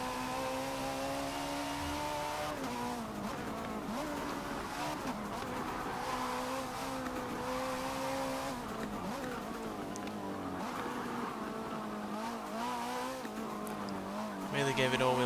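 Tuned all-wheel-drive 1973 Porsche 911 Carrera RS in Forza Motorsport 7, its engine revving hard and rising in pitch through repeated gear changes, with tire squeal and a voice speaking over the steady loud acceleration.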